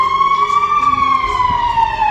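A fire engine arriving at an apartment fire in Alikarnassos sounds a loud, near siren in a steady wailing tone that bends slowly up and down over a low road rumble.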